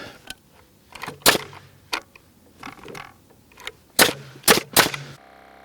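A Senco PRO framing nailer drives nails into wood with sharp, loud, close cracks, several shots fired in irregular bursts, some in quick pairs, separated by brief mechanical rattles and short pauses.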